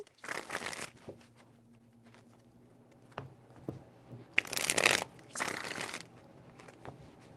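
Tarot cards are shuffled close up in three separate bursts of crisp riffling, with quiet handling taps and rustles in between and no talking.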